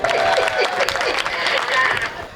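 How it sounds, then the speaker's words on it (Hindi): An audience applauds at a Hindi poetry gathering for a comedic poet, with dense, steady clapping from a nearby crowd mixed with some chatter throughout. "तालियां बजाइए लक्ष्मण नेपाली"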